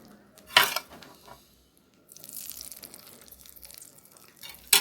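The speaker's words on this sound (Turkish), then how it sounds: "Şimdi en son üzerine yağ ve nane ısıttım, pişirdim. Şimdi dökeceğim üzerine." Hot oil and mint pour over Gaziantep-style sour meatballs with chickpeas in a pot, giving one sharp sizzling burst and then a sustained crackling hiss that fades out.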